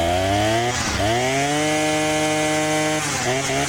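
A Husqvarna 525L string trimmer's small two-stroke engine runs steadily after its high and low carburetor screws were opened a quarter turn, droning loud and close with a brief dip in pitch near the start and again toward the end.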